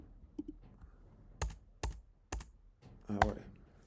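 Keys on a computer keyboard pressed in a short burst while typing a message, a few sharp separate clicks spaced out, then a louder cluster near the end, close by with quiet room noise.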